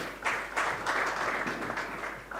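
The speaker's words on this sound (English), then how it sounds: "Big round of applause for them as well." Audience at a live sommelier competition gives a round of applause for a sponsoring wine association, a steady patter of many hands clapping for a couple of seconds.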